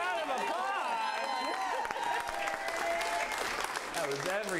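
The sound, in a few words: audience applause for the improv cast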